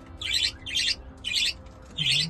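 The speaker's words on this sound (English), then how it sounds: "Oh, that's a bird." A bird in an aviary chirps in four bright, quick bursts, close and fairly loud, over a low steady hum.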